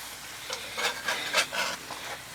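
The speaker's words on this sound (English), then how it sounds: "Let me show you how beautifully these brown." Chimichangas browning in a pan give a soft, close sizzle broken by several short scraping rubs as they are turned and shifted, brief and moderately loud, with no voices.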